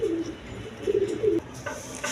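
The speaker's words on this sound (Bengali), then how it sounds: "দর্শক এক পেয়ার গররা কবুতর আছে, রেড কালার গররা।" A pair of red Gorra pigeons coo close by, giving a few soft, low, throaty coos in quick succession with no voices.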